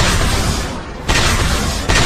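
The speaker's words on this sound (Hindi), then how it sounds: "धमाका है।" A loud, rumbling explosion from the Naruto anime fills the clip with dense roaring noise, briefly dipping before two further surging blasts hit in succession.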